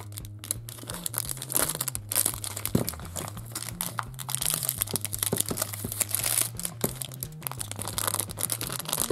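A thin plastic packet attached to a surprise fairy collectible toy is crinkled and torn open up close, producing loud, dense, continuous crackling with sharp snaps, under a steady low hum.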